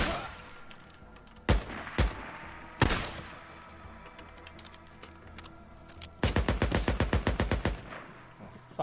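Gunfire from an AK rifle in Days Gone: a few loud isolated shots, then a sharp, rapid burst of automatic fire near the end, ringing out over quieter background noise.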